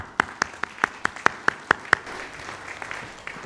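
Hand clapping from the audience at a graduation convocation: roughly nine sharp, evenly spaced claps in the first two seconds, then a quieter stretch of room noise.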